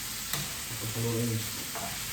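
Fried rice stirred in a frying pan for a Filipino breakfast, a steady close sizzle with a few scraping strokes of the spatula and a brief hum of background voice.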